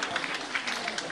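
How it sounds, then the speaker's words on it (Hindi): Audience in a hall claps to welcome a student being honored at a community award ceremony, a dense steady patter of many hands, moderately loud and continuous through the short stretch. "एक बार ताली बजा के स्वागत करते हैं।"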